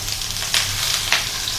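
Meatballs frying in a pan give a steady, close hiss of sizzling fat, with a couple of brighter surges as they are moved about, and no voices.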